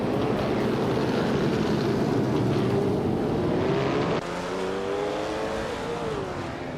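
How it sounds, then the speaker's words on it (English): A 1937 Alfa Romeo 12C race car engine in a video game race roars loudly and steadily, then drops to a lower, rising drone as the revs climb again. "Nuts is racing an Alfa Romeo 12C from 1937"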